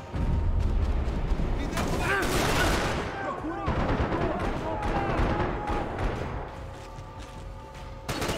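Dense, chaotic gunfire in the video game Max Payne 3, with overlapping bursts and booming shots sounding almost without pause, while voices shout and talk over the noise.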